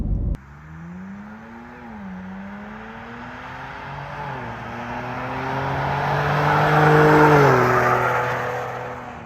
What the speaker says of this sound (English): you do hear this exhaust system much more from the outside of the Explorer